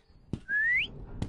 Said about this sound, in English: Who in their right mind thinks it's a good idea to walk around whistling?